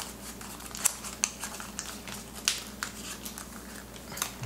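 Soft crinkles and crisp creases as a sheet of paper is folded into an origami butterfly, scattered light rustles and occasional sharper snaps, close and quiet with no talking.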